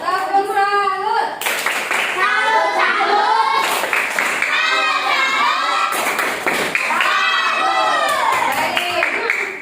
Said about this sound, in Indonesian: Kita beri tepuk salut buat kelompok 1 dan 3. Tepuk salut.